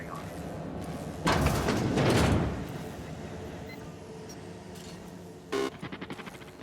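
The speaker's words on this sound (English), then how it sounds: "I'll get the door." A door opens in the video game The Outer Worlds, with a loud sliding mechanical whoosh lasting about a second, then a quieter hum and a short clunk followed by fading rattles.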